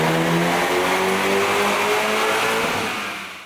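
A Hyundai Veloster N running a JB4 tune map 1 on 91 octane revs hard on a dyno, the engine note climbing steadily in one long loud pull before cutting off.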